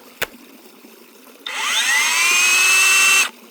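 A compact model 202 rotary hammer drill starts up after a brief click and runs steadily for about two seconds with a whining motor tone that rises as it spins up, then cuts off.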